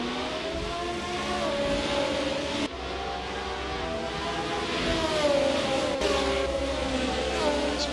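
A pack of 1971 Formula 1 cars pulls away at the race start at Lago Maggiore in a racing game, their engines droning and revving together in layered rising tones, continuous and fairly loud with no talking.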